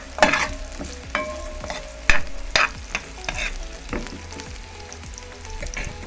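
Pimento seeds drop into hot frying oil for Jamaican escovitch fish, giving sharp sizzling bursts and crackles, with a spoon stirring and scraping the pan at close range and no talking.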